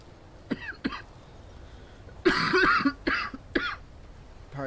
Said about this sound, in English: Still can't shake the cough.